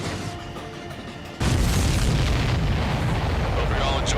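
A big explosion in the Ace Combat 7 flight combat game lands as a sudden deep boom after a quieter stretch, then a sustained loud rumbling roar fills the rest.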